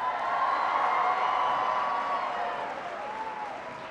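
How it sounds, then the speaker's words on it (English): Audience at a presidential jobs speech in Millers Creek, North Carolina breaks into loud, dense applause with whistles and cheering, easing slightly toward the end. "give him a big round of applause"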